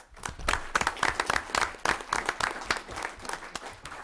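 A modest group at a city council meeting gives a round of applause, individual hand claps distinct and uneven, rising quickly and continuing steadily for several seconds with no talk over it.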